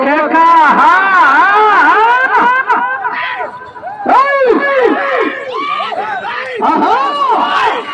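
A crowd at a bull race in Kothapalli shouts and chatters loudly and close, with overlapping excited voices rising and falling throughout.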